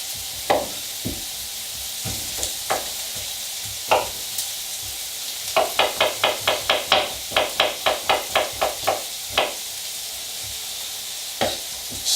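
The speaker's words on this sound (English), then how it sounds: "It's frying in coconut oil, by the way." An omelette sizzles steadily in coconut oil in a pan, broken by sharp utensil knocks, including a quick rhythmic burst of about a dozen taps near the middle.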